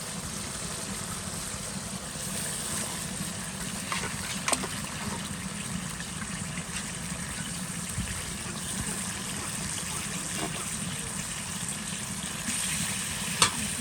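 Meat fries in oil in a pan, a steady, moderate sizzle running throughout with occasional stirring scrapes and small knocks.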